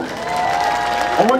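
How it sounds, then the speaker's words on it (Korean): Studio audience applause on a Korean television show, a steady broadband patter under a sustained tone, with a person speaking briefly near the end. "박수 한번 주세요"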